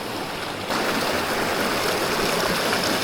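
Creek water of Paddy's River rushes steadily and loudly close by, a dense, continuous wash of flowing water that grows slightly fuller after the first moment, with no voices.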